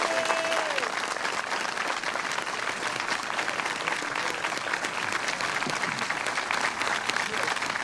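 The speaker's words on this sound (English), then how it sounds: "if we have a little applause for our Grand Marshal" Crowd applause for the Grand Marshal at a Memorial Day parade, continuous dense clapping from many hands at steady loudness throughout, with a faint voice briefly at the start.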